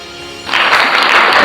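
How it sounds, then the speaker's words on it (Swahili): Applause breaks out after a short quiet lead-in, a burst of dense clapping that swells quickly and stays loud and steady to the end. "Kwanza makofi makofi"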